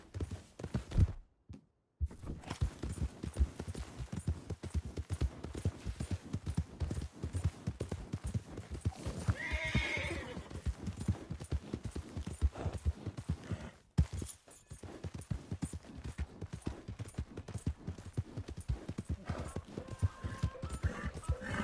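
Horse hooves pound in a fast, rhythmic gallop in the Red Dead Redemption 2 video game, sounding close and continuous, broken only by a couple of brief dropouts.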